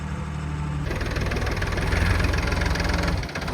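A tractor engine idles close by with a steady low rumble and slightly knocking pulse, rising a little in level midway before dipping near the end, with no voices over it.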